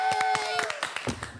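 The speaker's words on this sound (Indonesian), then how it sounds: "Tepuk tangan dulu." A small group claps at the close of a talk about sustainable tourism villages, a run of distinct, fairly close hand claps in quick rhythm that thins out toward the end, with a voice speaking underneath at first.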